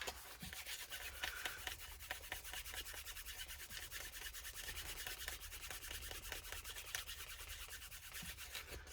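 Steady, rapid scratchy rubbing of sandpaper worked by hand, a continuous abrasive stroking that keeps going without pause and with no voices.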